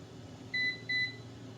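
Two short electronic beeps from a Xiaomi Air Fryer Pro 4L as its cooking selection begins, clean and evenly spaced, quiet and close over a faint low hum, with no speech.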